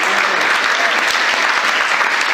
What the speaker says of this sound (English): Long round of applause.